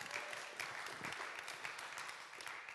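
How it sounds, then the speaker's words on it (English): A congregation at a sermon on strength claps in a soft, steady patter, fairly distant and quiet, lasting a few seconds. "yeah, you can clap for that."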